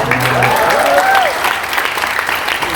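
Applause from a church audience during an Indonesian sermon in Bali, a steady dense wash of clapping that fills the whole moment, with some voices mixed in.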